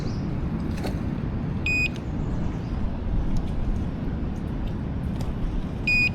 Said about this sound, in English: I got to put my bite alarms on.